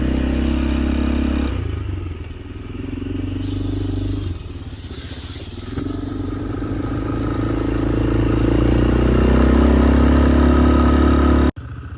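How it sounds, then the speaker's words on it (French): Quad bike engine running on a ride through the jungle in Thailand, a loud, close mechanical drone that rises and falls with throttle and rattles over rough ground, cutting briefly at the end. "là on est arrivé au quad dans une espèce de jungle. Le quad il est là, méchant quad"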